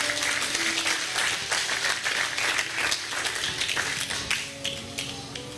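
A church congregation claps in a steady burst of dense, loud applause lasting several seconds, with no talking over it.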